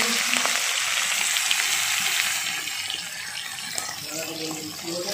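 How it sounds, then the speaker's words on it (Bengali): Prawns fry in hot oil in a pan, making a dense hissing sizzle that stays loud and even, then eases to a somewhat softer crackle halfway through, with faint background voices. "চিংড়ি মাছগুলো একটু লাল লাল করে ভাজা করে নিচ্ছি।"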